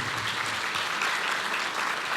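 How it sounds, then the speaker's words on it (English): Dense, sustained applause from the audience at a city State of the City address, a steady wash of many hands clapping throughout with no voices over it. "Please, if we can give a round of applause to our platinum sponsors."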